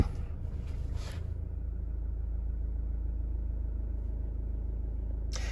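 A Mazda car engine idling at a standstill with a low, steady rumble heard from inside the car, while the car has an oil pressure fault. A brief noise comes at the start, and there is no talk.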